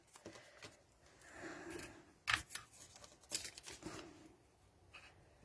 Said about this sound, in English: I'm just getting all this die cut out.